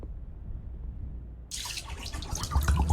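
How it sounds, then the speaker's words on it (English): Water runs out of a hole in the Lost Chronicles of Zerzura video game, a sudden splashing gush that starts halfway through and keeps pouring steadily, with no one speaking. "The water runs back out of one of the other holes."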